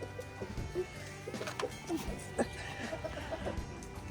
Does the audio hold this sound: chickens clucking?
yes